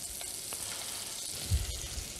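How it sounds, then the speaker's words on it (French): Pearl onions sizzle steadily in a hot pan, a soft continuous frying hiss with a brief low bump partway through, close and fairly quiet with no voices. "On va bien les laisser prendre, on va bien les laisser chauffer."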